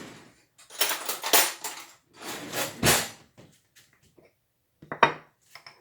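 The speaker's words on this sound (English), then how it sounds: "This is 1/4 teaspoon of salt, and I'm just going to take it and go over the entire loaf." Salt is sprinkled by hand over the whole surface of a focaccia bread dough, giving a few short, dry, granular rustling bursts separated by silence, close and fairly quiet.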